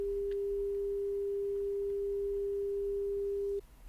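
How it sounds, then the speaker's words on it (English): A steady 400 Hz test tone plays as a pure, unwavering sine note, held evenly for over three seconds before cutting off abruptly in a quiet room. "I'm going to play what 400 hertz sounds for you right now"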